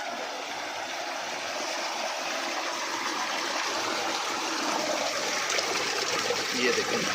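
Water gushes steadily from a small tubewell as a loud, broad rush that holds an even pace throughout.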